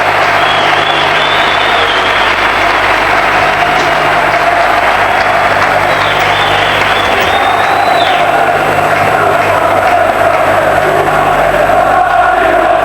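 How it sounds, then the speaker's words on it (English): A packed football crowd at Upton Park roars, applauds and cheers on the final day of the 1986-87 season as Liam Brady makes his entrance, a loud unbroken wash of crowd noise that swells at moments. "Great round of applause there."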